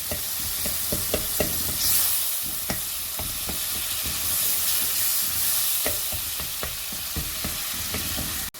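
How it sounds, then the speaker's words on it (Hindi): Tinned tomatoes fry in a pan for aloo masala bhurta, a steady sizzle broken by repeated scraping and clinking stirs of a spoon, close and alone. "अब तो इन टमाटरों को हम अच्छी तरह से भून लेते हैं।"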